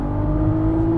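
A manual-swapped 550 hp turbocharged VW Golf MK5 R32 accelerates hard from about 4,000 rpm, its engine a loud, steady rising drone with a turbo whir, heard from close by for about a second.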